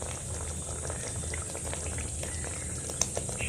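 Rohu fish kalia gravy simmers in a pan after a bowl of water is added, giving a steady, low bubbling and soft popping that continues evenly throughout without speech.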